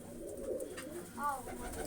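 A pigeon coos softly a couple of times, low and throaty, nearby, with faint voices murmuring in the background.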